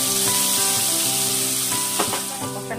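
Ground spice paste is dropped into hot oil tempered with cumin seeds in a kadai after frying sardines for a Bengali curry, giving a loud, steady close sizzle with faint stirring scrapes.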